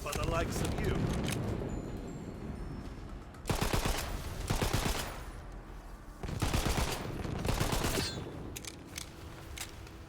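Rapid bursts of gunfire from a weapon in the video game Tiny Tina's Wonderlands, two loud clusters of quick rattling shots separated by quieter game ambience, with someone talking earlier in the scene.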